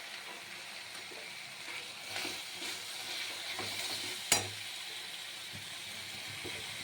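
Kashmiri chili and spices frying in hot oil with masala, a steady sizzle under occasional stirring scrapes and one sharp clank of a utensil against the pan.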